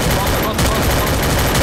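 Rapid bursts of gunfire from the video game Free Fire, loud and dense with a brief dip partway, fired in close succession.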